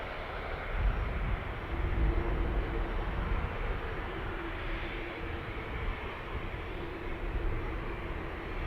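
A steady, broad engine roar drifts across the apron from an Antonov An-124 heavy-lift cargo jet at Dublin Airport, heard from a distance as a continuous low rumble without pauses.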